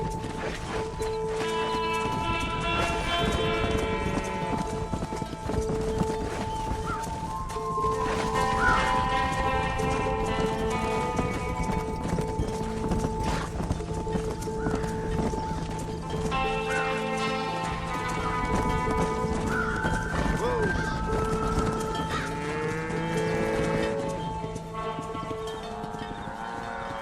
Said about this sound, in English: That's a big herd for your first time.